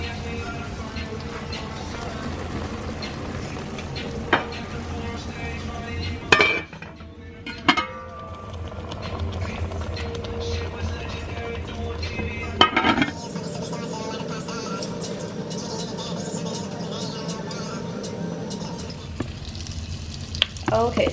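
Unsalted butter sizzles and fries in a non-stick pan at the start of a homemade Alfredo sauce, a steady close crackle broken by occasional clinks and stirring knocks, with a person talking over it at times.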